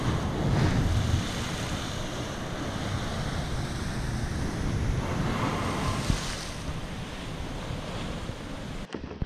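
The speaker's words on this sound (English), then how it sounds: "So the waves them really huge." Large ocean waves surge and crash near rocks on the Jamaican coast at Navy Island, a continuous loud roar of surf with swelling bursts, heavy wind buffeting the microphone, and no talking.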